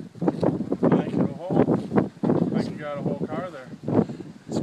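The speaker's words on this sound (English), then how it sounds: "It's probably not getting any of this audio because it's so windy." Strong gusty wind buffets the microphone outdoors near a parts car, in loud, uneven rumbling bursts throughout while people talk over it.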